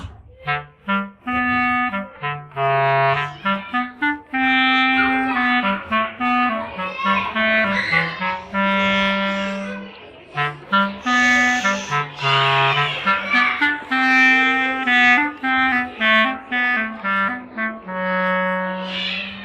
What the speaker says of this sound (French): Alors écoutez maintenant le son de la clarinette et du chat.